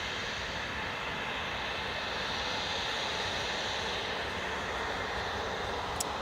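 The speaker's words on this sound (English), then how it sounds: "here comes the Logan Air Embraer, just about to depart now" A Loganair Embraer airliner sits ready to depart from runway 25 at Newcastle International Airport, its engines giving a steady, broadband hum at a moderate distance that holds unchanged throughout.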